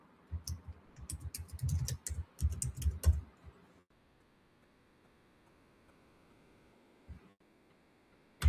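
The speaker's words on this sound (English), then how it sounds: "So I'm typing in the chat, my website." Typing on a computer keyboard, close and quiet: bursts of quick clicky keystrokes for about three seconds, then near silence with a couple of isolated taps.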